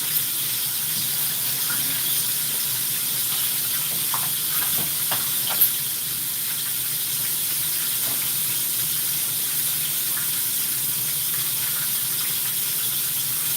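Pork chops frying in a pan, a steady soft sizzling hiss that continues throughout, with a few small pops and clinks, heard close and moderately quiet with no talk.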